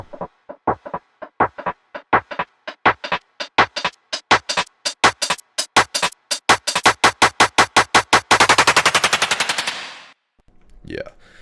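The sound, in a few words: build snares with filter opening in an Ableton remix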